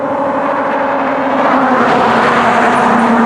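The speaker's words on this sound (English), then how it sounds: "Boy, them tires are loud on that truck." A truck passes fast on a road, its loud tire roar and engine hum swelling steadily close by, heard from a bicycle at the roadside.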